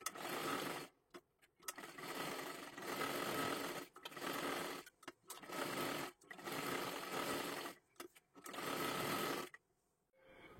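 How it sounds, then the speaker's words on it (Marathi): Sewing machine stitching a garment sleeve, running in close, steady bursts of rapid mechanical whirring separated by short pauses, ending quietly. "आता इकडच्या बाजूला घेऊन आपल्याला पूर्ण बाहीला शिलाई करून घ्यायची आहे"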